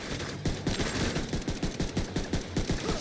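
Rapid automatic gunfire in a video game, a fast rhythmic burst of loud, close shots running continuously without pause, with no voices over it.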